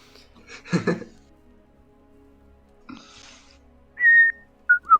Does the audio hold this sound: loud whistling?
yes